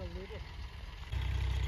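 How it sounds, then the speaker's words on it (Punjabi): A tractor works out in a farm field, giving a low, steady engine rumble at a distance that swells noticeably louder in the last half-second, with a brief voice at the start. "ਲਓ ਜੀ, ਉੱਧਰ ਪੈਲੀ 'ਚ ਟਰੈਕਟਰ ਚੱਲ ਰਿਹਾ।"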